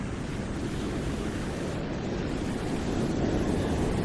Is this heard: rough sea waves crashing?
yes